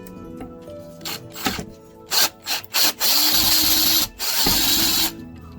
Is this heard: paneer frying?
no